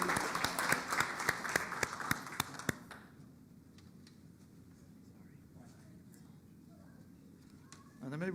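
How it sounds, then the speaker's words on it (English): Audience applause at a town board meeting: a burst of crisp, close hand claps for about three seconds, which then stops abruptly and leaves quiet room murmur and faint shuffling. "So I want to give you a round of applause."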